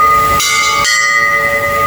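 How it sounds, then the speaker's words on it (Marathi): A bright, sustained metallic temple bell tone rings on with steady overtones, loud and close, with a couple of brief hissing swells, no voices, at a Hindu temple in Abu Dhabi. "खूप सारे घंटा आहेत"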